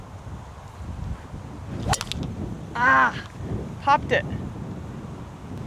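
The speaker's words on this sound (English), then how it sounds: "It's windy." Gusty wind sweeps across an open golf course and buffets the microphone in uneven rushes and thumps, while a person talks briefly over it.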